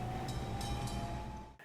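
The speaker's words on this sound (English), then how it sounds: "A man starting up a tram is a scene." A tram starts up on a street, a steady low rumble with a faint sustained whine running through it, fairly loud and alone, easing off at the end.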